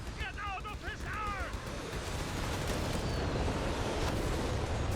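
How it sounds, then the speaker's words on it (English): An artillery barrage in Company of Heroes 3 rolls in as a dense, continuous rumble of booms and blasts. A brief voice-like sound rises early on, then the bombardment builds and holds steady. "Another barrage coming in"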